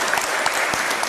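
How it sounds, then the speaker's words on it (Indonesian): Seated audience at a spiritual talk breaks into brisk, dense clapping, loud and close, a continuous patter of many hands with no speech over it. "Tepuk tangan dulu."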